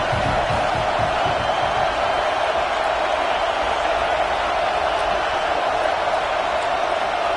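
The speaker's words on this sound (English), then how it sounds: "This crowd bringing the energy and noise early." A dense, continuous roar of a large American football stadium crowd fills the air, steady and loud without clear breaks.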